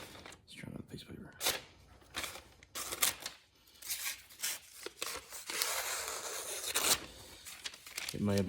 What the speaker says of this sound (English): Still cutting paper.